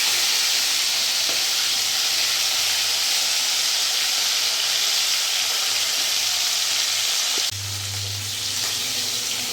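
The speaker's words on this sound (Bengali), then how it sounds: "মাছগুলো আমার ভাজা হয়ে গেছে, এবার আমি নামিয়ে ফেলবো।" Rohu fish pieces fry in hot oil in a pan with a steady, close sizzling hiss that runs continuously, shifting slightly in tone near the end as the fish is moved.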